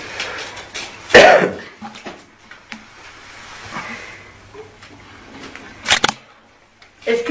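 Several people cough in a quiet room, with sharp isolated coughs spaced apart and faint rustling and murmuring between them.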